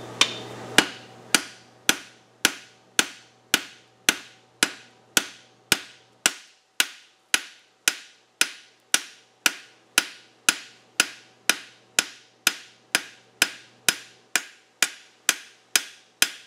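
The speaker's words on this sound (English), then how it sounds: "You could do that with half the hammer blows with the sledgehammer" Roughly thirty ringing hand-hammer blows beat out a scarf on a two-piece bevel shoe at the forge. They land in a steady, even rhythm, each strike sharp and close with a short metallic decay, and no one speaks.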